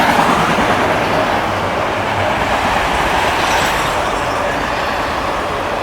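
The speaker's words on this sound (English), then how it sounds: "Another train auto rack." A CSX auto rack freight train passes at speed through Germantown, a loud, unbroken roar of wheels and wagons up close with light rhythmic clacking, slowly easing a little in loudness, no one speaking.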